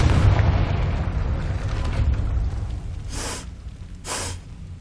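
A Confringo blasting spell from the Hogwarts Legacy video game, two short bright bursts a second apart following a rumbling stretch, moderately loud against a low background wash.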